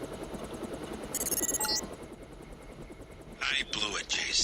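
MJ-12 helicopter in Deus Ex, a steady rotor drone running throughout with brief high-pitched bursts layered over it, heard alongside game audio and voices.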